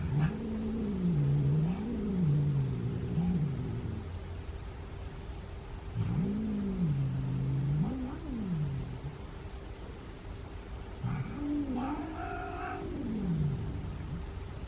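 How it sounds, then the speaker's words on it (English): Boo, a house cat, growls at kittens in three long wavering bouts, low rising-and-falling moans separated by short pauses, close and fairly loud. "He's growling."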